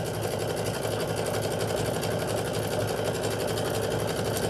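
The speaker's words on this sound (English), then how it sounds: "I'm going to sew this line too" A sewing machine runs continuously, stitching a quilt block seam for a sunflower house block, as a close, steady mechanical hum and rapid needle rattle with no talking.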